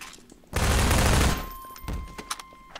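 Gunfire in Half-Life 2 inside a sparse city office building: a dense, loud burst of rapid shots for under a second, then fading echoes and scattered smaller impacts.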